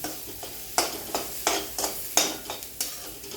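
A spoon works mashed potato into a batter of semolina in a bowl for potato-and-upma fritters, giving repeated soft scraping strokes at an irregular beat, close and moderately quiet, with no voices.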